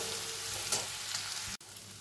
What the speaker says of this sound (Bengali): আদাটা আমার ভাজা হয়ে গেছে